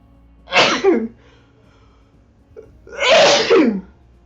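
Two loud, close sneezes about two seconds apart, each a sharp burst, with a quiet pause between and no talking.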